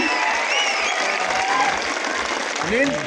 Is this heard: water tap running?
no